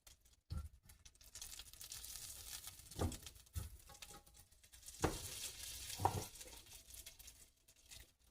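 Butter melts and sizzles in a pan ahead of browning a chuck roast, a soft steady fry with occasional louder crackles and pops rising over the hiss.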